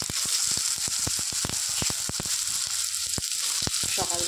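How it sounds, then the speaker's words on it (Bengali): Vegetables fry in hot oil with a loud, crackling sizzle up close, dense with sharp pops and spits throughout. "আবার তেল গরম হয়ে গেছে, আর সবজিগুলো আমি আস্তে আস্তে তেলের মধ্যে দিয়ে দিচ্ছি"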